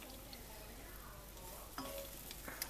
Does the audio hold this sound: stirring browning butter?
yes